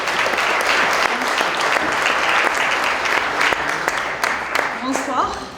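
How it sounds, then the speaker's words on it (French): Audience at a French-language business awards unveiling applauds steadily throughout, dense close clapping filling the room with a host's voice speaking over it. "Yasmina, et on peut l'applaudir."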